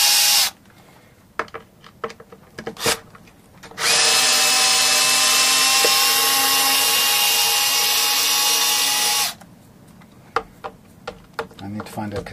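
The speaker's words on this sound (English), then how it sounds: "I'm going to start with the torque on this screwdriver of about 5 and see if that's enough" An electric screwdriver unscrews the neck screws of a Korean-made 7-string electric guitar being converted to 6 strings. It whirs loudly and steadily for about five seconds, with small clicks and handling knocks before and after.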